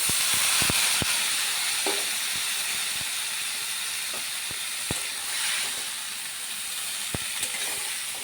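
Vegetables hitting a hot pan for a dried fish curry, a continuous sizzle and hiss with scattered sharp clicks of a spoon against the pan.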